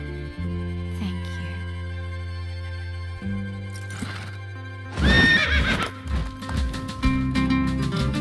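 A cartoon horse from Bluey whinnies loudly and its hooves clip-clop, heard over sustained soft music notes.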